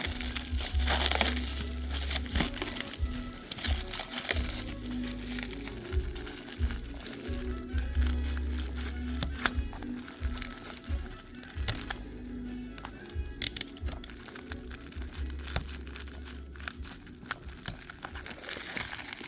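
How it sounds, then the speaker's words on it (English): Plastic saran wrap crinkles and crackles loudly and close up as it is peeled off a boxed toy car, a continuous rustling broken by sharper crunches, with a low hum underneath. "A lot of saran wrap here."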